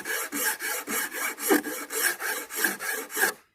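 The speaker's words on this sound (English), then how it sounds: "with this tool, I can file in both directions, up and down, because as you can see, these teeth are much smaller" A fine-toothed file rasps across a wooden board held at a 45-degree angle, in about a dozen steady, evenly spaced back-and-forth strokes, close and clear with no talking.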